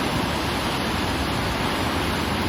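Floodwater rushing bank to bank through a channel during heavy rain in Surat, a loud, continuous roar of turbulent water that holds steady without pause, with no talking heard.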